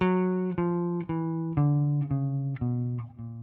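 A trombone plays a quick bebop scale run of separate, evenly spaced notes stepping steadily downward, each tone clear and sustained with a bright, buzzy edge.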